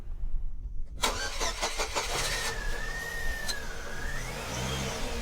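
A 2002 Chevy Cavalier's 2.2-liter pushrod four-cylinder engine cranks and catches, then revs up and settles into a steady running rumble, close and fairly loud.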